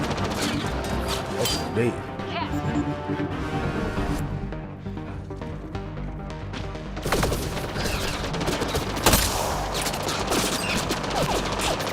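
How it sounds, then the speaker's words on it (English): Gunfire in Mass Effect: Andromeda crackles in dense, continuous bursts with crashes and impacts, while someone talks over the fight. "Oh, something shooting from over there."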